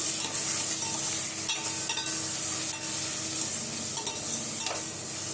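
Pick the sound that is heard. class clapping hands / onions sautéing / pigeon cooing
onions sautéing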